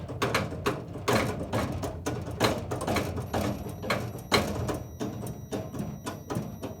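A T50 brake booster on a test bench is pumped by hand with no vacuum applied, giving a steady run of sharp mechanical clicks and ratcheting clatter, close and fairly loud, with no talking.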